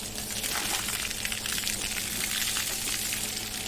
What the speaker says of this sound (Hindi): सिर में ही ज़्यादा पानी डालना है हमने।